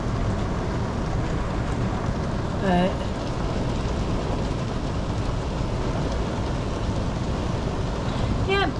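Wind-driven rain lashes down during a storm in a garden area, a steady, dense hiss filling the whole stretch at moderate level, with a short spoken word partway through.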